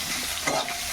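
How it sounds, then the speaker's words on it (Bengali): Eggplant and onion cooking in a pan, a dense continuous sizzle with stirring scrapes, close and fairly loud, heard alone. "বেগুন দিয়ে আর পেঁয়াজ দিয়ে চাপিয়েছি"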